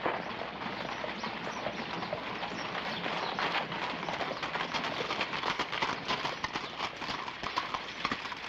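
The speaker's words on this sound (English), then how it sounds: "Billy, take the horses around the livery stable." Steady clip-clop of hooves plodding along at a walking pace, close by, with faint bird cooing in the background and no talking.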